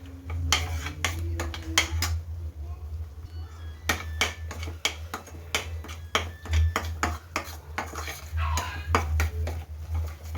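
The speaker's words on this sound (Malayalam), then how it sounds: "നമുക്കിനി ഈ കാഷ്യൂ പേസ്റ്റ് ഇതിനകത്ത് ആഡ് ചെയ്യാം. നന്നായിട്ട് സോട്ട് ചെയ്യാവേ." Cashew paste is stirred into a pan for North-style paneer butter masala, with a spoon clinking and scraping against the metal in quick, irregular strokes. A steady low hum runs underneath the whole time.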